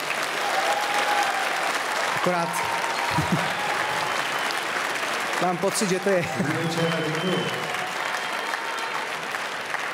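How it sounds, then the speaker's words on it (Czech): Concert audience applauding at a live benefit show, dense sustained clapping filling the whole stretch while a presenter speaks over it in Czech. "ten potlesk je zasloužený."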